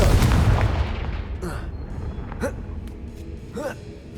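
Confringo blasting spell cast in the PS5 game Hogwarts Legacy: a loud burst right at the start, then a few short whooshing magical bursts with fading booms, spaced about a second apart.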